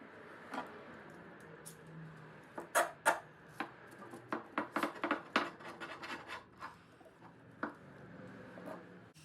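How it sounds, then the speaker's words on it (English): A hand plane shaves the wooden front face of a guitar neck in a series of short, scraping strokes, some sharp and some soft, close and fairly quiet, with no talk. "I'm just planing this front face uh, smooth"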